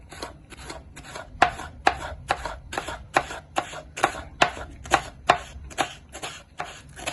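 A knife chops cabbage on a cutting board in a steady run of about fifteen crisp, evenly spaced strokes, each a close, sharp tap.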